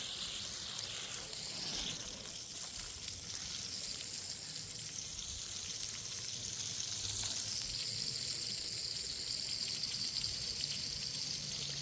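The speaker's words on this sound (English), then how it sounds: "I love this hose because all you do is to add pressure and it goes all the way" Garden hose spraying water over seedlings in a backyard organic garden, a steady close hiss of the spray running continuously with a slight shift partway through.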